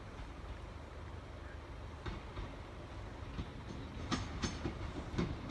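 Train passing Sleaford East level crossing on the Peterborough–Doncaster line via Lincoln, a steady rolling rumble with a few louder wheel clicks near the end, moderately close.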